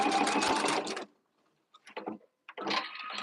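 Sewing machine stitching in short runs, a rapid mechanical whirring burst, a pause with a few light clicks, then stitching resumes, close and clear with no talk.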